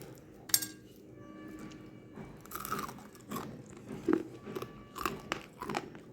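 Crispy fried cauliflower being eaten up close, with sharp, irregular crunches and bites, softer chewing between them and a few light clinks of dishes.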